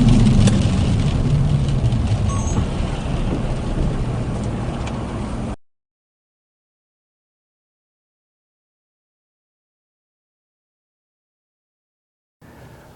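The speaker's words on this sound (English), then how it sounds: "We have traffic." Road traffic with passing cars makes a steady, loud engine and tyre rumble for about five seconds and then cuts out. A short return of faint noise comes near the end.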